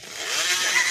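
A motorcycle engine close by revs up in a brief, rising buzzing whine, loud and alone for about a second.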